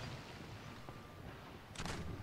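Ship cannons fire during a naval battle in the Empire Total War strategy game, a single loud broadband boom bursting out near the end over a steady roar of battle ambience.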